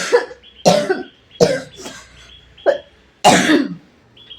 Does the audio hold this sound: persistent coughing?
yes